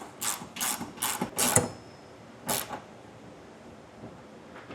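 A ratchet wrench tightens a 19mm tow hook bolt for a trailer hitch on a 2023 Honda CR-V, clicking in four quick bursts and then one more after a pause, close and clear against a quiet background.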